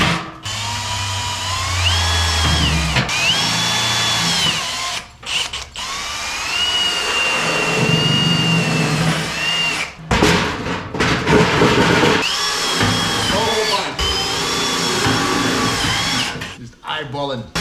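A power drill drives screws into the metal inner barrel of a DIY burn barrel, whining in repeated rising and falling runs with short pauses between screws, loud and close.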